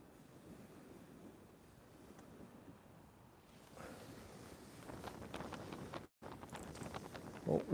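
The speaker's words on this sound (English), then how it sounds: "a little bit of wind coming through" Wind blows over the coast during sea bass fishing in the UK, a steady faint rushing like surf that swells louder in the second half, with brief bumps of microphone buffeting.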